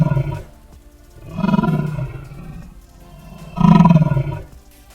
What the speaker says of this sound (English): Let's get this eagle mixed with a T-Rex roar.